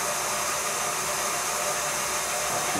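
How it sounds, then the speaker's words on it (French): A stand mixer whisks eggs, sugar and milk for a port crème caramel, a steady, even whirring hum with a constant airy whoosh that continues without a break. "Tout en fouettant, je vais donc rallumer le robot."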